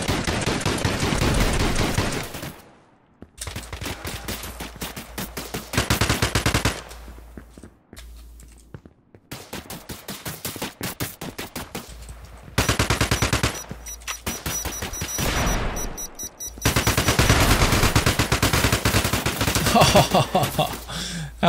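Loud, relentless automatic gunfire in the FPS game Exverse comes in long sustained bursts separated by brief pauses, dense and close for the whole stretch.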